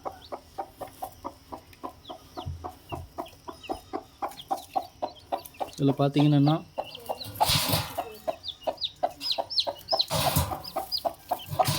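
A native-breed mother hen with newly hatched chicks clucks steadily in a rapid, rhythmic series up close, with a brief louder squawk midway and a person speaking softly at times.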